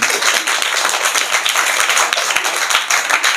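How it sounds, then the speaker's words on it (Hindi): A school audience applauds a student's recitation of a Hindi poem, a steady dense wash of clapping from a crowd throughout. "इनके लिए तालियां बजाएं"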